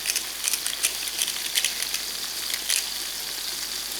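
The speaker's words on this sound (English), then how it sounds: "our tomatoes, it mustn't get very soft, it's just a quick fry" Tomatoes, salted generously, quick-frying in a pan for a tuna pasta, giving a steady close sizzle with small crackling pops scattered throughout, no talk.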